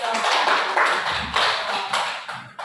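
A classroom of fifth-grade pupils bursts into applause during a lesson, with dense, busy clapping that swells in a few waves and stays steady for a couple of seconds.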